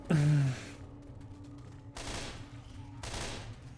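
Gunfire in a video game, one loud close blast followed by two fainter, duller shots about a second apart.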